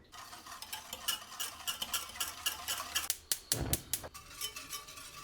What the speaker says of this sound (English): We're gonna mix together 1/2 cup of sugar and 2 cups of milk over the stove.